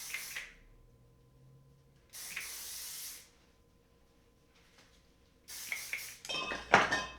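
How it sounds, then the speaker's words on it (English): Three bursts of medium-hold hairspray hiss close by, each about a second long with pauses between, followed by a few light clinks. "I'm going to spray a little bit of hairspray on it."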